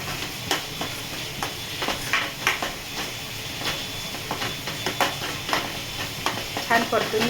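Paneer bhurji sautéing in a pan with butter masala, a steady sizzle broken by repeated scraping stirs of the spatula, close and fairly loud, with no voices.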